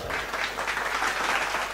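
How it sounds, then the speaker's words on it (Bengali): An audience at a stage hypnosis show claps steadily and loudly for nearly two seconds, a dense even wash of applause with no voices over it. "জোরে হাততালি হবে না?"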